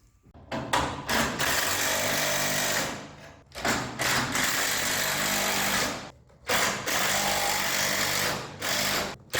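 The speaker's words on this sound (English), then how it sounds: "you can take an impact across all of them, one by one, slowly working your way to the middle" Impact wrench driving nuts on a bowed truck tailgate to pull out a dent: loud sustained hammering bursts of a few seconds each, separated by short pauses, close and alone.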